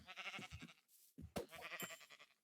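A sheep in the video game Minecraft bleats in short, wavering calls, several in quick succession with a brief gap, close and clear with no talking.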